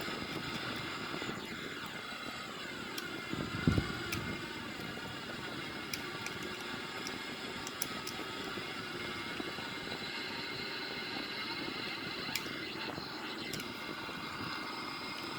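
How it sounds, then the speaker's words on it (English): Sukhoi Su-30M2 jet engines in full afterburner during a flight over the Swiss Alps, heard from inside as a steady, broad roar that continues throughout with a brief louder thump near the start. "It is in full afterburner right now."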